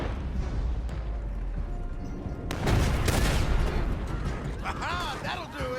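Gunfire in the video game Red Dead Redemption 2 as shots are fired at a roadblock, with loud rough blasts and a heavy burst over a noisy, rumbling scene, and voices speaking.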